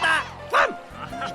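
A cartoon dog in the Hunter x Hunter anime gives a short yipping bark between bits of bright background sound, close and fairly loud.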